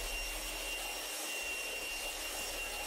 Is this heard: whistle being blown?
no